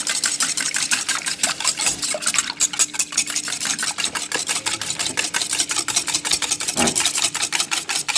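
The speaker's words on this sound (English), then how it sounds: "And we'll just whisk." A whisk beats the wet ingredients for Irish soda bread in a bowl, giving rapid, regular scraping strokes that are close and fairly loud, with a brief clink partway through and no voice.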